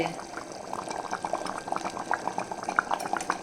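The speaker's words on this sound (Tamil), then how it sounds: "இப்படி தலபுலான்னு கொதிக்கும் போது" Thick curry bubbles and pops steadily in a pot, a continuous close simmering with irregular small bursts and no voices.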